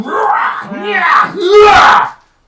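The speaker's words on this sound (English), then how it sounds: "you are met with the sound of battle" Intense battle sound effect: overlapping screams, yells and cries from a crowd of combatants, loud and continuous for about two seconds before cutting off.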